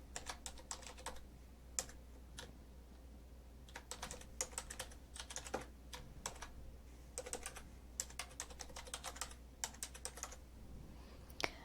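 Fingers type on a computer keyboard, a school email address being entered, with quick bursts of crisp key clicks separated by short pauses; close, quiet and with no talking.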